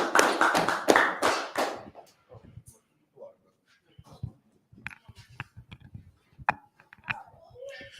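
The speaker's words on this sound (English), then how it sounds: "Clap it up." Audience clapping at an Israelite group history class in Fayetteville, North Carolina, a burst of hand claps in the opening two seconds, then fading to scattered taps, shuffles and faint voices.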